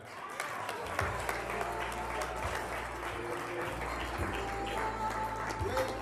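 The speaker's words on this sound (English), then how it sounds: "she deserves a much bigger round of applause than that" Audience applauding at an anniversary gala dinner, continuous moderate clapping from a room of guests, somewhat distant, with a low hum and faint voices mixed in.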